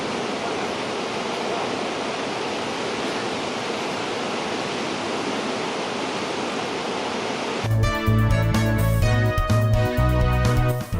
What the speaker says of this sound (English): Our first stop was the Gullfoss waterfall.